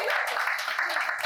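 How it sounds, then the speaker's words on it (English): Brief applause from a live comedy show audience, a short burst of clapping mixed with some crowd voices, fairly quiet and close. "A round of applause for alcohol,"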